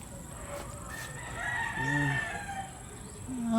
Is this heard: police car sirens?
no